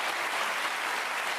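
A television studio audience applauds magician Dani Lary and his partner Valérie, a brief, dense, steady burst of clapping from many hands with no talk over it.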